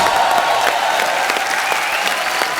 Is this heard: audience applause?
yes